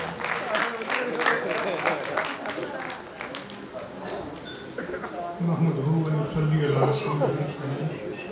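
Crisp audience clapping welcomes a guest speaker at a Mercy Welfare Foundation event in the Lahore Arts Council hall, thinning out as a voice begins speaking near the end.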